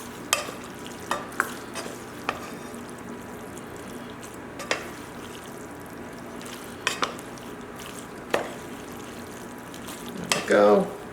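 Pasta tossed in a pan with shrimp scampi sauce, faint soft sizzling under scattered sharp utensil clinks and scrapes against the pan, ending in a brief louder stirring burst.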